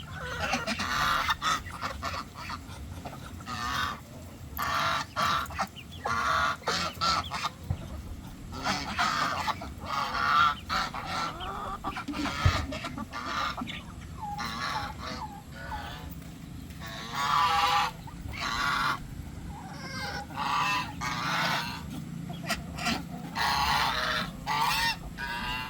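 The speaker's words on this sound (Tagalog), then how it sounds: "Ingay ng gansa natin." A flock of geese honk repeatedly and noisily, overlapping calls in an irregular chorus, fairly close.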